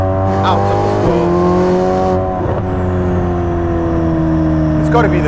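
A Ferrari Speciale sports car drives hard, its engine note rising and shifting through gears with tire squeal, loud and close throughout, with speech-like sound partly over it.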